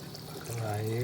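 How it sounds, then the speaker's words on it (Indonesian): Water poured into a pot of rawon beef soup, a short rising pour that swells over about a second, with a voice talking over it. "Kita kasih air, ini air yang"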